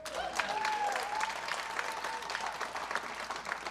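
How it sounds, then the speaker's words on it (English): Crowd applause for the grand prize winner at a community showcase event, a fairly quiet, dense clapping wash with a faint tonal whistle or cheer early on, continuing steadily to the end. "let's give one more crazy round of applause to the Well City Challenge winner, Mr. Derek Tarver."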